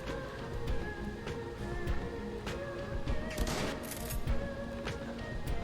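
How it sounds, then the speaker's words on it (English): Grenade launcher fire in a Shadowrun turn-based video game crackles as a steady, dense barrage of bursts and blasts under continuous battle noise, with no clear gaps. "Oh my god, that's a grenade launcher."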